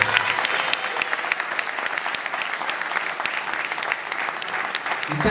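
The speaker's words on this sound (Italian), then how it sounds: "ci ho dato un applauso." Dense, steady applause from a crowd at a singing festival fills the whole stretch, close and even with no pauses.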